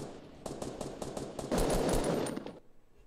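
Rapid, evenly spaced gunshots from a gun in the Fortnite video game fire in close, loud bursts, thickening into a dense volley before stopping abruptly.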